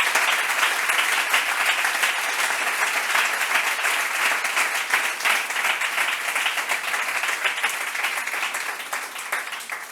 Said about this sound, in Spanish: por favor, un aplauso para Amparo